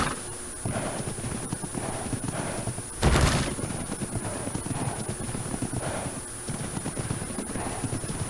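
Horse galloping in the video game Ark: Ragnarok, a steady run of hoof clip-clops under game ambience, with one brief louder thump midway.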